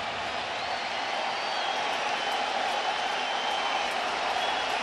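Baseball crowd in a packed ballpark cheering and applauding steadily for Red Sox pitcher Nate Eovaldi in a Rays–Red Sox game, a dense, sustained wash of clapping and voices with no single standout shout.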